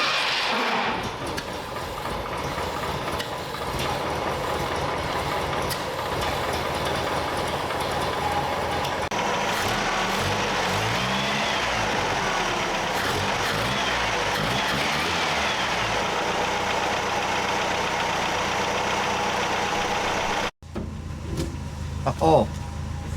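A Datsun 520 pickup's engine warms up and idles with a steady, loud, continuous drone close by, ending in an abrupt cut near the end followed by a few faint knocks.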